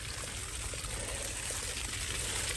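Water from a hose flushes and rinses a saltwater boat and its trailer in a ditch, a steady rushing spray and splatter that holds close and constant with no voices.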